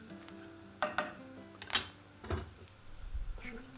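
Walnuts are stirred as they fry in oil in a pan for walnut noodles, with a quiet sizzle under a few scraping and knocking utensil strokes against the pan.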